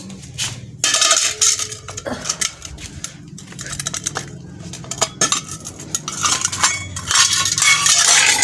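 Dishes, pots and cutlery clatter and clink repeatedly as they are gathered up for washing in a home kitchen, a busy, close run of metallic knocks and scrapes throughout.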